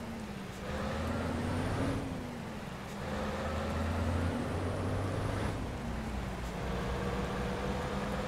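A heavy truck engine in the driving game Euro Truck Simulator 2, hauling a long load: a steady low drone with rising and falling pitch as gears shift, continuous and fairly close, with no one talking.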